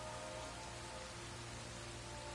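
Steady, dense rainfall hisses evenly across a landscape in the video game Crimson Desert, a continuous wash of drops with no voices.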